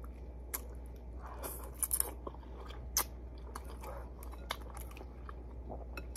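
Close chewing and crunching of ramen noodles with eggs during a late-night mukbang, soft wet bites and occasional sharper crunches repeating irregularly over a steady low hum, with no talking.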